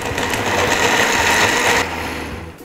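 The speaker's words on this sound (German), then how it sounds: "Jetzt werden wir das Ganze pürieren und zu einer dickflüssigen," A kitchen blender purees a thick pink smoothie bowl mixture with oats and honey, a loud steady close whir that runs for about two seconds and then drops to a lower hum.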